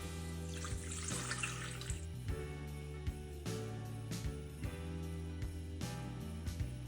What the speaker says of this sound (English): In our bowl of our stand mixer, we'll go ahead and add our 1/3 cup of cool water